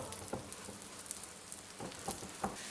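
Flatbread dough cooks on an oiled, preheated griddle pan, giving a faint steady sizzle with scattered soft pops and crackles.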